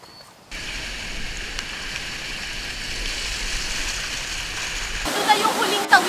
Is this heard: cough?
no